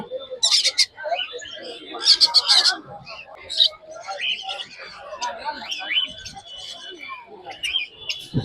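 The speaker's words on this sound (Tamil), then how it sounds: "இது எல்லாமே பாத்தீங்கன்னா ஆப்பிரிக்கன் லவ் பேர்ட்ஸ்." African lovebirds at a Sunday exotic pet market in Chennai give bursts of sharp, high chirps and squeaks at close range, mixed with market background noise.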